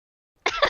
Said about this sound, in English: It was just a cough.